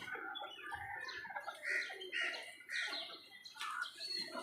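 Chickens on a small farm, a flock clucking and chirping in overlapping short calls at moderate distance, quiet but busy and continuous.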